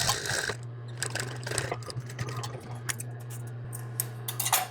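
A sewing machine stitches across the serged or pinked hem of a men's apron, backstitching at each end, making a quiet steady mechanical whir and tick with a constant low motor hum running throughout.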